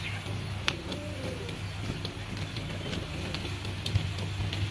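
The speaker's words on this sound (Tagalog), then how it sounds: "Yung mga ibon." Birds in a rural vegetable garden plot coo and call faintly at a distance over a low outdoor hum, with a few sparse chirps standing out from the quiet background.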